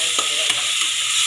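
A spoonful of ginger garlic paste fries in a pan for a farm country chicken dish, giving a steady, bright sizzling hiss with a couple of soft spoon scrapes close up.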